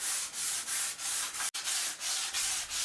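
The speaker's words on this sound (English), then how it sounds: "I sand down the varnish with a 60 grit paper." Steady rhythmic rubbing of 60 grit sandpaper over varnished wood, with repeated back-and-forth strokes at close range and one brief break partway through; no voices.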